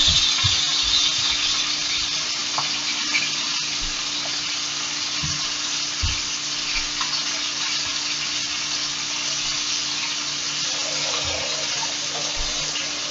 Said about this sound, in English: Over here washing my hands, guys, so hold on.